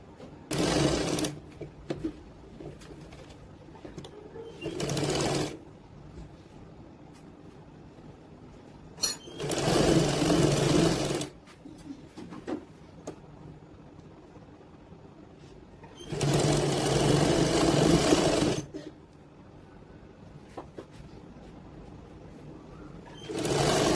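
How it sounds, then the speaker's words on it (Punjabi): A sewing machine stitches the hem of a suit in several whirring bursts of a few seconds each, separated by quieter stretches of handling, close by and with no one speaking. "ਬਲਾਊਜ਼ ਦੀ ਆਪਾਂ ਸਲਾਈ ਲਾ ਦਿੱਤੀ ਆ"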